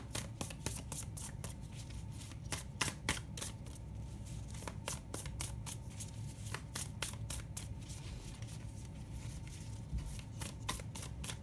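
Tarot cards are shuffled gently by hand, a long run of quick, soft riffling clicks and snaps close to the listener at low volume with no voices.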